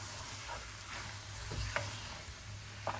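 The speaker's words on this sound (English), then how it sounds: "And I'll add in my masala as well. We'll give this all a really good mix." Lamb shoulder curry with masala stirred in a hot pan, a steady sizzle broken by a few scraping spoon strokes, close and moderately loud with no talking.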